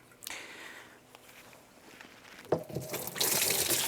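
Water is siphoned out of a reef aquarium through a hose started by mouth suction: quiet dribbling and trickling at first, then a louder gushing flow of water in the final second.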